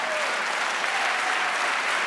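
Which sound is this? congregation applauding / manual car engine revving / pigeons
congregation applauding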